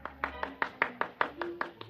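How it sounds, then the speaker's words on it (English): A golf gallery gives a brief smattering of applause in a radio drama sound effect: about nine light, evenly spaced hand claps, fairly close and alone, fading off after two seconds. "there was a smattering of applause like a matinee just before they closed the show"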